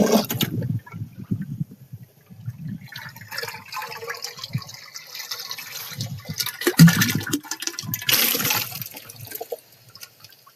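Cow urine poured into a container with soil while making jeevamrut, a natural farming mixture, giving an uneven liquid splashing and gurgling close by, in bursts over about ten seconds with no talking.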